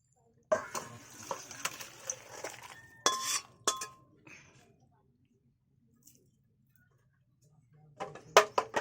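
A pot of tilapia fish curry with potatoes taken off a home stove: clinking and scraping of metal cookware in bursts, with faint background hum and speech nearby, then a final cluster of clanks.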